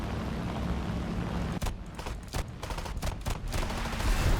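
Machine gun fire at a Spitfire in the video game War Thunder: sustained automatic bursts with several sharp distinct shots in quick succession, loud and close.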